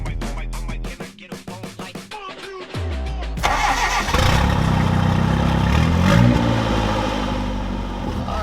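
A cheap turbocharged car engine, just fitted with an O2 sensor, cranks with rapid starter clatter for a few seconds, then fires and settles into a loud, steady idle close by.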